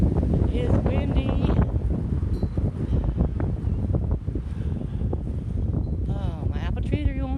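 Strong gusts blow across an outdoor yard being cleaned up after a major windstorm, a loud continuous rushing buffet against the microphone with a person talking through much of it.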